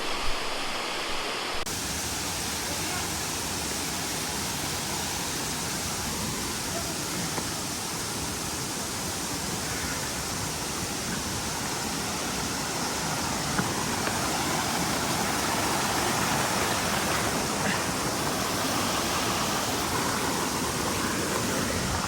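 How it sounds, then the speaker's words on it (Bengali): A waterfall near Nagarkot, Nepal, roars steadily and loudly throughout in winter, a dense unbroken rush of falling water. "এই শীতকালে এসেও প্রচুর পরিমাণ পানি এই ঝর্ণাতে"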